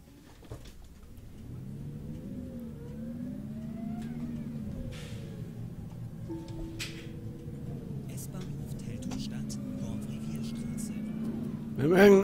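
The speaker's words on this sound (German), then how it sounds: "Irgendeinen älteren ZF-Motor, Euro 2." An older ZF Euro 2 bus engine in the OMSI 2 simulator, on a Mercedes-Benz Citaro city bus in Berlin, drones and rises steadily as it accelerates, a low continuous rumble that builds over several seconds with a louder burst at the end.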